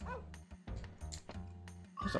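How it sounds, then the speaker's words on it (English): A puppy yips and barks in the video game Wild ARMs, several short, sharp bursts with a whimpering edge over soft background game music. "There's a puppy. The puppy is guarding 690 Gela"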